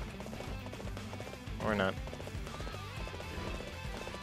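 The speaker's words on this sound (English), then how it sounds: "Hit the top button and you'll jump on your horse." Horse hooves clip-clop at a gallop in the Dynasty Warriors 8 game during the Battle of Wuzhang Plains, a steady rhythm over battle music and game noise, with a brief whinny and someone talking over it.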